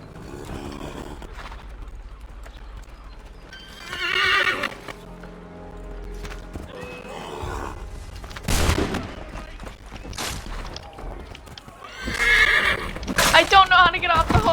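A horse in Assassin's Creed III neighs and whinnies while its hooves clip-clop, with bursts of gunfire in places and a player talking throughout.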